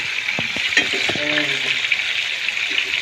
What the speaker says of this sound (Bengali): এইভাবে এপাশ পাশ করে উল্টিয়ে পাল্টিয়ে ভেজে নিতে হবে